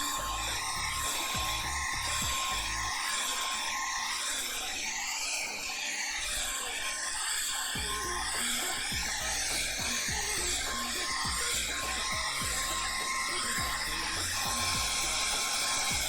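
A hair dryer drying a freshly painted canvas blows with a steady loud whirring roar that runs continuously from start to finish, close by.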